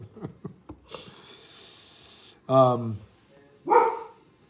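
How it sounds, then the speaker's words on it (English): A dog gives a couple of short, close barks and snorting huffs between bursts of nearby talking. "you hear my dog barking in the background"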